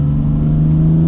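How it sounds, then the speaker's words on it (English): Tuned BMW F80 M3 with a 3-litre engine, sport cat and non-straight-through exhaust, giving a loud, steady, close engine drone with a strong low hum held throughout, with no talk. "The F80, the 3 litre, it doesn't sound good."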